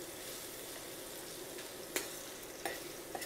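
Crushed garlic clove sizzling in hot oil in a pan, a soft steady frying hiss with a few brief stirring scrapes, fairly quiet and without speech.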